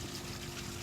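Water drains fast out of a pond filter's waste outlet, a steady, dense rushing and trickling that stays even throughout.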